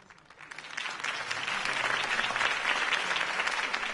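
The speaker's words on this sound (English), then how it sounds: "If only Mr. Wayne, my campaign's largest backer, could have heard that applause" Crowd applause in a Batman video game swells from a few claps into sustained, dense clapping, steady and fairly close, with no clear voices over it.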